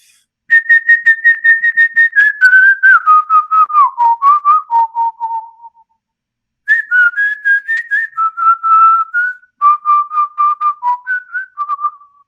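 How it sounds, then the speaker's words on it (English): A whistled Icaro, an Amazonian shamanic healing song, carried by a clear solo whistle in two long melodic phrases of steady, pulsing notes that step gradually downward, with a short pause between them and no talking. "So a whistling Icaro is,"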